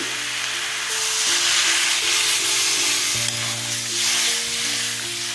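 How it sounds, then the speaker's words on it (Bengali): Water goes into a hot pan of sautéed mixed vegetables, green tomatoes and pea-shoot stems for a vegetarian curry. It sets off a loud, continuous hissing sizzle that swells and eases in waves throughout, with a low background hum. "দেখুন কষানো হয়ে যাচ্ছে জল দিয়ে দিচ্ছি"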